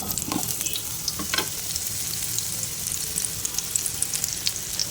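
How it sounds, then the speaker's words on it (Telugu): Bitter gourd pieces shallow-fry in hot oil over a medium-to-low flame, giving a steady, dense crackling sizzle with scattered sharp pops and no talking. "ఆయిల్ హీట్ అయ్యాక మనం దీంట్లో కాకరకాయ ముక్కలను వేసేద్దాం"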